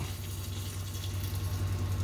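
Seasoning liquid pours over brussels sprouts in a home kitchen, a short steady trickling splash with a low hum beneath it.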